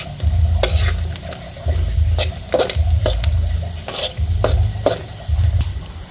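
Fried tofu sizzles loudly in a pan while a utensil stirs and scrapes it in repeated bursts, with clicks of metal against the pan and no voices.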